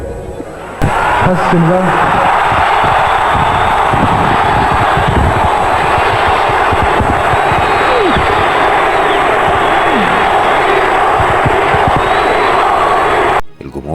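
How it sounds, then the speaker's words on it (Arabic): A stadium crowd roars and chants continuously in the background for the whole stretch, with someone talking over it and a few thuds breaking through. "الجمهور بيهتف: لا يا بيبو، لا لا، ملكش حق"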